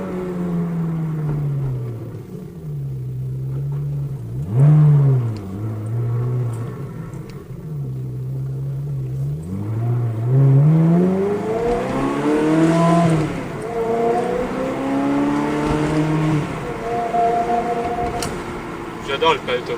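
Ferrari engine and exhaust note while driving, a steady low drone that swells and rises in pitch with repeated revs and acceleration, close and loud, with people talking over it.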